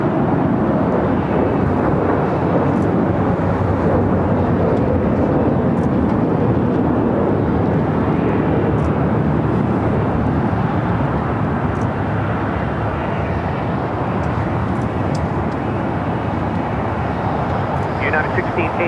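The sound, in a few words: Air Tahiti Nui aircraft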